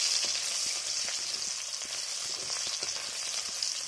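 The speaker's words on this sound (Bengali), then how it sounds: "তাৰপিছত তাত এতিয়া পিঁয়াজ দি দিম, ইমান পিঁয়াজ দিব নালাগে, অলপ পিঁয়াজ দিলেই হ'ল। এইটো ধুনীয়াকৈ এতিয়া ভাজিবলৈ দিম" Onions sizzle and crackle in hot oil while frying for a Bengali chitol fish curry, a steady close hiss dotted with small pops, heard alone without voices.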